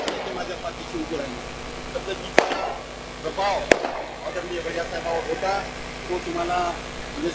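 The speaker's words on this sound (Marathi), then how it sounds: "त्या गाढवांना म्हणा फटाके जरा बंद करा" Two sharp firecracker bangs burst at a political rally in Latur, loud and sudden a little over a second apart, cutting through a man addressing the crowd over a public address system while crowd noise runs underneath.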